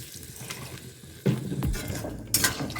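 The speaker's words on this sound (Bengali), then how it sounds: "এবার দেখো আমি এতে দিয়ে দেবো পরিমাণ মতন জল" Water is poured into a simmering potato and paneer curry in a pot, heard as a sudden splashing rush after a quiet stretch, followed by a brief clatter of a vessel, close and moderately loud.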